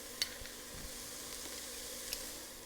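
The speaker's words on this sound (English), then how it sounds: "Now I'm going to add my garlic." Garlic goes into a pan of sizzling vegetables for a creamy Italian sausage and tortellini soup, a soft steady frying hiss with a couple of faint clicks of utensils, close and quiet.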